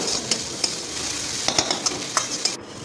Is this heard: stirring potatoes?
yes